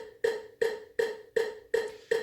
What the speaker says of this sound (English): I'm going to play a metronome into them.